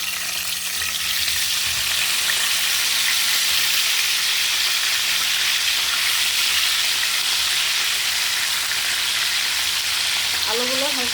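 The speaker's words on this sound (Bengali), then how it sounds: "এখন আমি ভেজে নেব আলু" Potatoes frying in hot oil, a loud, continuous, close hiss of sizzling that stays even throughout, with a faint brief voice near the end.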